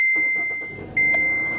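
A 2016 Kia Forte EX with a 2.0 L inline-four starts by push button: a steady electronic chime runs throughout, then the engine abruptly catches and settles into a close, even idle.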